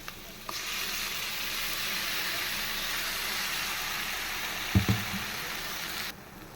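A ground spice paste hits hot oil in a pan for a goat liver curry, setting off a steady, even sizzle that holds for several seconds before a couple of brief knocks and a sudden stop.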